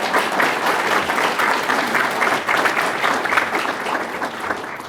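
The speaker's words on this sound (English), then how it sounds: "We should give him a round of applause." Steady applause from an audience at a talk on Illinois politics, dense broadband clapping that fills the whole stretch at an even, fairly loud level with no break.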